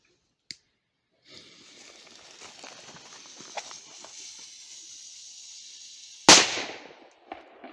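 A single sharp firecracker bang goes off close by in grass after a stretch of hissing fuse and rustling, followed by brief crackling debris.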